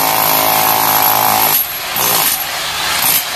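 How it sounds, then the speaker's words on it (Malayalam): A 5 kg demolition hammer breaks rock: a loud, continuous, rough mechanical hammering that runs steadily, then drops off and returns in shorter bursts toward the end. "നോക്കിയ 5 kg കൊണ്ട് പാറ പൊട്ടിക്കുന്ന കാഴ്ച"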